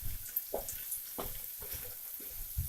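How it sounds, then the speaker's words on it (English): A hot dog sloppy joe sauce cooks in a pan over low to medium-low heat, giving off a soft, steady sizzle with a few brief stirring scrapes and clinks. "while the sauce is cooking, you want to do this on a low to medium-low heat"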